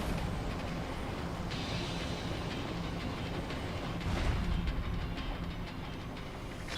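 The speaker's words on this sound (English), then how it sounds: "They're gonna crash the whole monorail." A monorail train rumbles and clatters steadily in a Ninja Gaiden 3 game scene, a dense, continuous mechanical roar with rail clacks that swells briefly louder near the end.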